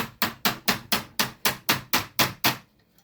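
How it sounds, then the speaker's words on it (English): Hammer tapping a metal catch into place, ten evenly spaced sharp strikes at a quick steady rhythm, close and loud, followed by silence. "grab your hammer"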